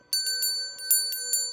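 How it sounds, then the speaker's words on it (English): A small bell rung indoors during a spiritual space-cleansing ritual chimes about six times in quick, uneven strikes, each a bright ringing tone that lingers between hits, clear and close with no talking. "ring this bell, cleanse this space a little bit more"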